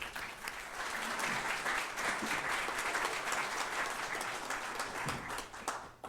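An audience at a Columbus Metropolitan Club luncheon talk applauds to welcome the speakers, with steady, dense clapping that holds for several seconds at moderate volume and then begins to thin toward the end.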